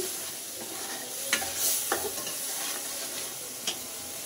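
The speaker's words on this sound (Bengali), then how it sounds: "আমি মশলাটাকে সুন্দর করে কষিয়ে নিব কিছুক্ষণ।" Spice masala sautéing in oil for a hilsa fish kofta curry, a low continuous sizzle broken by occasional spatula scrapes against the pan, close and without voices.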